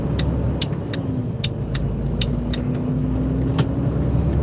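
Steady interior drone of a car engine and tire-on-road rumble while driving on a weekday morning, a constant low hum with a few faint ticks and clicks and no talking.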